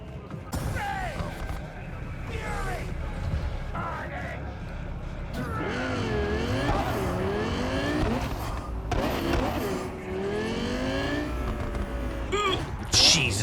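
A supercar's engine rising and falling through gear changes while driving in Cyberpunk 2077, with tire noise, steady and close, under intermittent talking.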